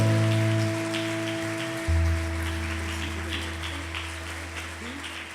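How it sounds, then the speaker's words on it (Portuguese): Congregation applauding the Lord during a church service, a broad steady wash of clapping under sustained organ or keyboard chords, loud at first and easing slightly over several seconds. "dê um aplauso ao Senhor"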